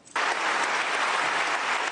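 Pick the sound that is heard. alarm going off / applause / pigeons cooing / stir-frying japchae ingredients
applause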